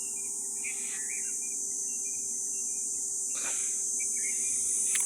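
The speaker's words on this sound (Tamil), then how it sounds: "மழை வண்டு சத்தம் பாருங்க." A rain beetle calls with high, buzzing chirps in bursts, one loud rasping pulse standing out, over a steady shrill insect drone and a low hum outdoors.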